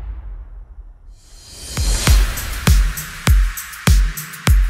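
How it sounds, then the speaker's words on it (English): A house music drop with a sweeping riser building in, then punchy kick hits landing roughly every second over a sparse, dry mix. "So without those ambient vocal chops, it sounds like this."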